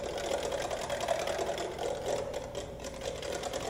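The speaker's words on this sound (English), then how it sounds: "So we'll just whisk it back together." Heavy whipping cream and sugar being whisked back together by hand, a steady continuous scraping whir with a mechanical buzzy quality, held at an even loudness throughout with no speech.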